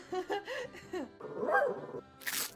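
A dog in a French fantasy audio drama gives a few short barks and whining yelps in quick succession, close up, ending in a sharp hissing burst.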